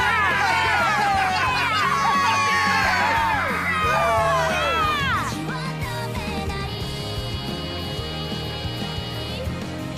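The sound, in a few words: crowd cheering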